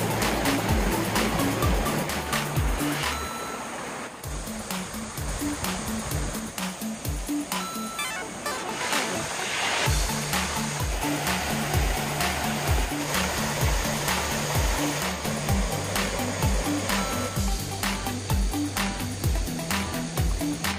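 Mountain valley stream in a gorge in Sancheong, Gyeongnam, water flowing steadily over rocks and into pools, a continuous near rushing wash that carries on alone throughout with no voices.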